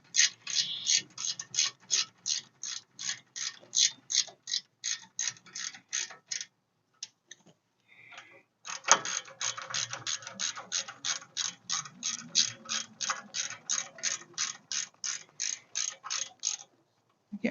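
A hand ratchet tightens pins on the front end of a 1959 Ford F100 in rapid clicking bursts, pausing briefly midway before a second long run of sharp, close clicks.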